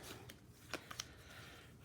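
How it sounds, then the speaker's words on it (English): Goblin cards from a Tiny Epic Dungeons board game being shuffled by hand, a quiet close riffle with a few brief crisp snaps of card edges. "Oh, the goblin deck is now empty, so I shuffle the goblin cards."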